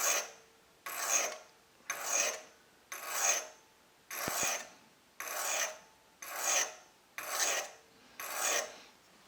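A metal extractor smoothed with a medium sharpening stone: nine even, rhythmic rasping strokes close up, each a short gritty rub separated by brief quiet gaps.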